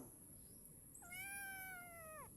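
A single drawn-out kitten meow, high and tonal, rising then falling, heard close against a faint background hiss with no talking.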